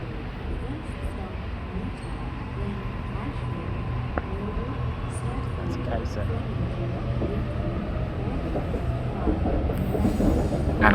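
A Sydney K-set suburban train arrives at a station, its rumble building steadily with squealing wheels and rail clatter growing louder over about eleven seconds.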